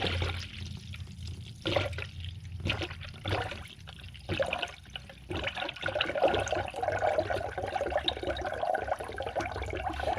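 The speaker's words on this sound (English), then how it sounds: "Now you can start pouring in your coolant, and you will not spill any." A 50-50 coolant mixture pours through a funnel into the radiator of a Dodge Caravan, heard as close gurgling and trickling liquid with uneven splashes that settle into a steadier flow.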